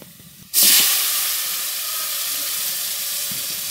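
Onions hit a hot pan for a taki fish curry with lau, bursting into a loud, bright sizzle that eases slightly and then holds as a steady close hiss.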